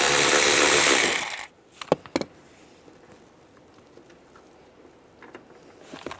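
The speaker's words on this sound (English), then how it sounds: "Take this bolt out." A ratchet wrench loosens a seat bolt inside a 2007-2013 Chevrolet Silverado, a loud dense burst of rapid clicking for about a second, followed by a few sharp metallic clicks and quiet handling noises.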